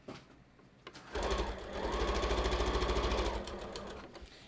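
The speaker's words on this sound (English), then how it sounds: "as we go, we're gonna sew these seams open too" A sewing machine stitches a seam on a fabric dress form cover in one quiet, rapid burst of whirring needle strokes lasting about two seconds, preceded by a few small clicks.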